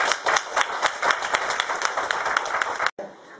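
An audience claps steadily for about three seconds, a dense crowd of hands at moderate loudness, then it stops abruptly.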